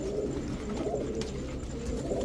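Royal Teddy pigeons, a pair, coo steadily in a low murmuring rhythm, close and continuous with no talk over them.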